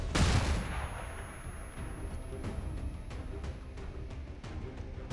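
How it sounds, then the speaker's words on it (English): Flashbang grenade thrown at a muton in the video game XCOM 2: a loud blast at the start, then a dense crackling, rumbling wash with repeated sharp pops continuing throughout. "Estrinda, flashbang that muton"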